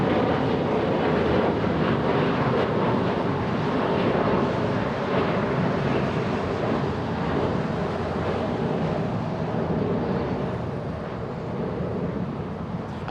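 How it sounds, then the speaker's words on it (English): A Boeing 777 airliner taxis across runway 25 left at LAX, a broad steady jet engine rumble and hiss heard from a distance, continuous and even throughout with wind-like noise and no talk. "have a big 777, this one crossing 25 left"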